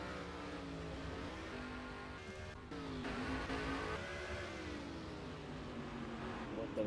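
In NASCAR Racing 2003, Sportsman Series race cars roar as a pack. Several engines drone and rise and fall in pitch as they rev through the field, with a continuous close mechanical hum and no talk over it.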